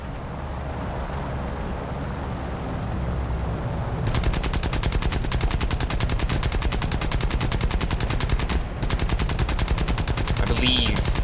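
Rapid machine-gun bursts from an aircraft's nose gun in the War Thunder combat game, loud and continuous over low engine drone, firing in long sustained strings with one brief pause.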